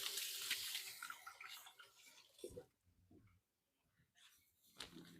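Hands washed under a running tap in a home kitchen, with close splashing water that stops briefly and then resumes, along with a few soft knocks.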